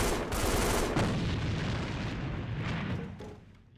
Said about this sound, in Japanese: 手榴弾投擲。